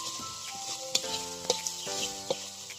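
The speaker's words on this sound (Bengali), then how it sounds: "মোটামুটি ভাজা হয়ে গেছে আমাদের মশলাগুলো।" Cardamom and other whole spices fry in a pan with a continuous close sizzle, broken by a few sharp pops and crackles, while faint sustained melodic tones run underneath.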